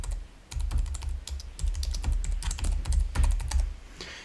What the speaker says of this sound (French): je vais passer au clavier pour ici